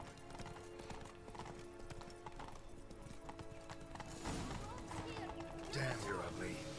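Roach the horse trots in The Witcher 3, with a steady clip-clop of hooves running throughout and low voices talking over the hoofbeats, faint overall.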